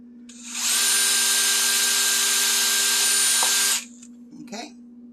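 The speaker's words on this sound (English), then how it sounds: "And I'm going to drill me a hole." A power drill whines at steady high speed for about three seconds while boring a hole in a suncatcher, then spins down, followed by a brief scrape.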